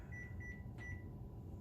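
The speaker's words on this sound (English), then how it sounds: "And now we're going to set our timer." Kitchen timer being set while making meatloaf meatballs, giving a few short, thin electronic beeps in a quiet room with faint background hum.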